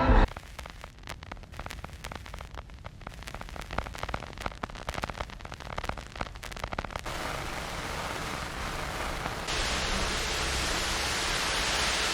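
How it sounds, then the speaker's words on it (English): Dense static hiss closing an experimental album, broken and crackly at first, then swelling into a steady, loud wash of white noise that fills the last seconds alone, with no voices. "you know you've got an experimental album on your hands when it ends with 3 minutes of static"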